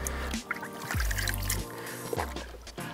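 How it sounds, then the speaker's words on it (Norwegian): Concentrated car soap being stirred into a bucket of water, with close, irregular sloshing and squishy liquid swirls and a few drips, loud and continuous over about three seconds with no talk. "Og så rører jeg litt rundt i vannet, slik at såpa får fordelt seg."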